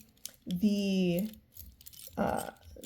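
A small bunch of two keys jangling and clinking in a hand, one short metallic rattle followed by a second brief jingle, close by and moderately loud.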